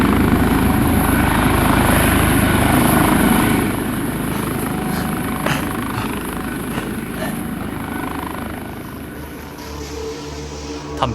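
Helicopter hovering or flying overhead, a steady loud rotor drone that persists throughout and eases slightly after a few seconds, with no talk.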